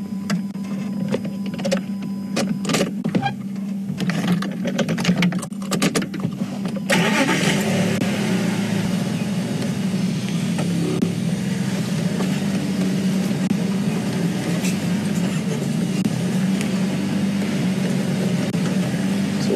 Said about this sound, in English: as I'm reversing out of the sighting, I'm just watching him